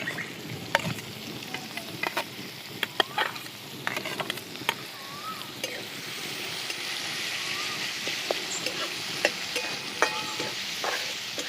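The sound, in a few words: onion frying with asafoetida in a pan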